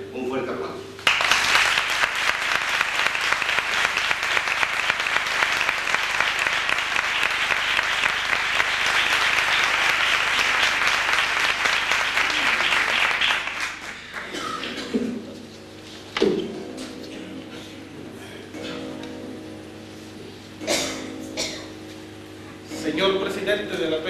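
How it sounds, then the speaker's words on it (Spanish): Loud, dense audience applause at a 50th anniversary proclamation for the Peña La Giraldilla, sustained for about fourteen seconds before fading, followed by someone speaking to the gathering with scattered claps. "no sin antes pedir para él un fuerte aplauso"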